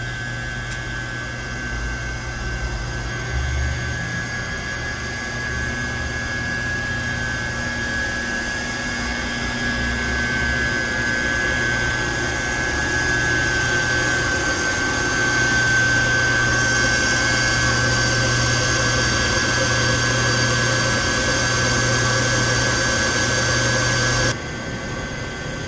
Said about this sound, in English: Here's a close-up look of their pumping station here in operation.